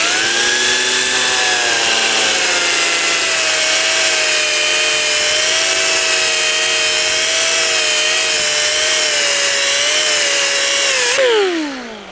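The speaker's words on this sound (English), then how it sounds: "This is the rubber from a drum sander on a cordless drill." A rubber drum sander spun by a cordless drill presses against a metal English wheel turned like a lathe, giving a loud steady high whine with shifting pitch that winds down at the end.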